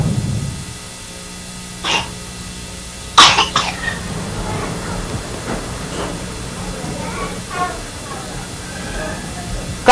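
A sick child with pneumonia coughs in a few short, harsh bursts indoors. The coughs are fairly close and sit over a constant background hiss, with some faint voices or sounds between them.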